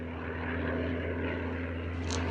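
A propeller airplane drones steadily and continuously at moderate loudness, a low engine hum running through the whole moment with no voices heard.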